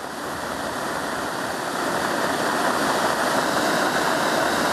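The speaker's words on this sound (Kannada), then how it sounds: "ಎಷ್ಟು ರಭಸವಾಗಿ ನೀರು ಹರಿದು ಹೋಗ್ತಾ ಇದೆ ಅಂತ" Water gushes forcefully from a pipeline of the Yettinahole project near a landslide at Shiradi Ghat, a dense, loud, unbroken roar that builds slightly and continues throughout without speech.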